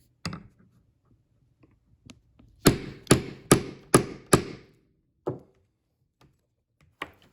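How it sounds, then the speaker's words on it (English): Five sharp hammer strikes on a rivet setter into leather land in quick, even succession, with a few lighter taps before and after in an otherwise quiet space. "we set that on top and hammer away"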